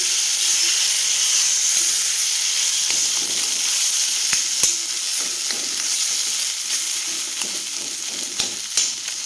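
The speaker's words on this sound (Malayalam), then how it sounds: "ഒരല്പം വെള്ളം ഒഴിച്ച് കൊടുക്കാം തിളച്ച വെള്ളമാണ്" Boiling water hits a hot pan of cooking tapioca with a loud, steady sizzle and hiss, with occasional stirring clicks and scrapes throughout.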